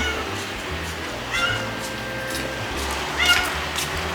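A cat gives two brief, fairly faint meows, a few seconds apart, over steady low background noise.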